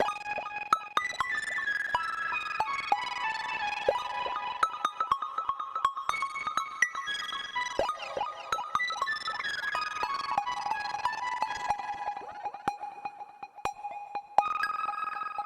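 Bright synth plucks repeat in quick rhythmic patterns, layered with warbling, shimmering tones that sustain and shift in pitch beneath the sharp note attacks.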